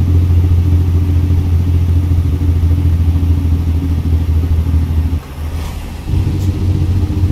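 A Cat 3306 diesel engine in a Peterbilt 357 truck in American Truck Simulator drones loudly with a deep, steady rumble that dips briefly near the end before resuming.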